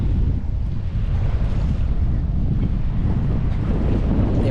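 Wind buffets the microphone while sea waves slosh and surge around a small sailing boat off the Calanques of Marseille, a loud, continuous rough roar.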